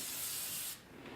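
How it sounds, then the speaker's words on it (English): Weightless hairspray sprayed onto styled hair in a steady, close hiss lasting most of a second before cutting off into quieter room noise. "Once again, lots of weightless hairspray."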